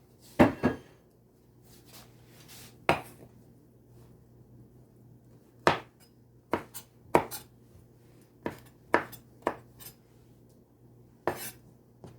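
A knife chops vegetables on a cutting board for a Mediterranean chickpea salad, giving irregular sharp close taps spaced a second or two apart over a quiet kitchen background, with no talking.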